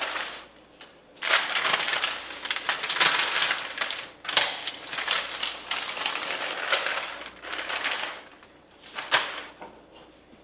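Bagged diced potatoes with onions tumble into an oiled pan in several loud, rattling, clattering bursts separated by short pauses.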